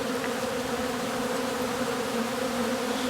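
Honey bees hum loudly and continuously from an open Koenen vented top bar hive during a fall inspection, a close, dense buzz with a steady pitch and no talking.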